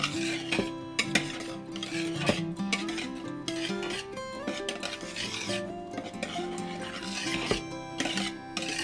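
Egg yolks slowly folded into whipped egg whites in a bowl, with repeated rubbing and scraping strokes of a utensil and faint clinks against the bowl, close and continuous.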